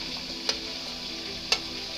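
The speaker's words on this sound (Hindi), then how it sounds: "देखिए फ्राई हो रहा है मेरा चिकन।" Chicken for biryani fries in a pan with a steady close sizzle, broken by two sharp clicks of a utensil against the pan.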